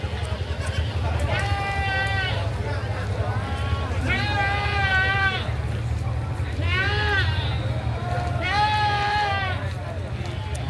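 Goats at a livestock market bleating in four drawn-out, wavering calls at regular intervals, close and loud over a constant low rumble of crowd noise and talk.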